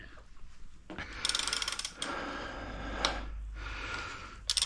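A socket wrench ratchets on tight bolts during an S85 engine rebuild, giving bursts of quick, crisp clicking close up, several separate runs with brief pauses between them.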